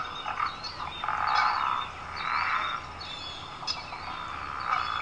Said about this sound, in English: Here's the pickerel frog.